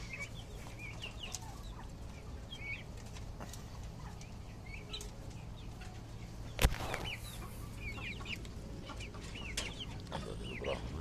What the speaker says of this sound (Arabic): دجاج عرب وبراهمة.